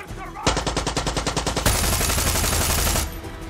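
Rapid automatic gunfire in the video game Far Cry 6, a loud burst of evenly spaced shots that shifts into a denser, heavier stream of fire before cutting off, close and without talking.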